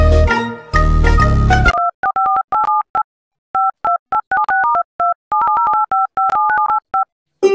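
Telephone tones on a call: a loud opening buzz and burst of notes, then a long run of short two-tone keypad beeps in irregular clusters separated by silent gaps.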